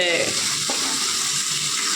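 Tempering (tadka) sizzling in a pan, a loud, dense, continuous frying hiss up close, unbroken for the whole short moment.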